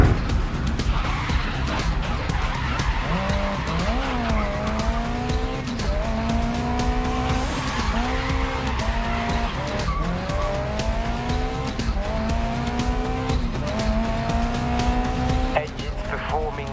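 A race car engine in GRID Legends wails loudly and steadily, its pitch rising and falling through repeated gear shifts, with tire squeal and skidding mixed in under the constant roar.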